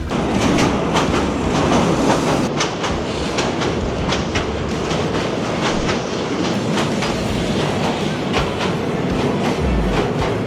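A train runs steadily and loudly, its wheels giving a continuous clickety-clack over the rails with occasional sharper knocks throughout. No one speaks.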